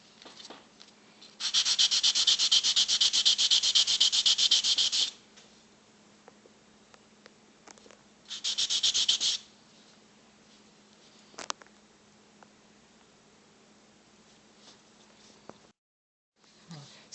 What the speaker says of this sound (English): I'm gonna use sanding paper and sand just the bottom of the pillar pieces